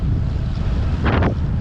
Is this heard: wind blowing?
yes